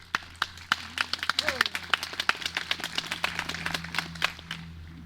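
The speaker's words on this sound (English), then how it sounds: "You deserve a round of applause for what you have accomplished to date." Picnic audience clapping outdoors, a scattered run of sharp hand claps that thickens into looser applause, with a faint voice in the background.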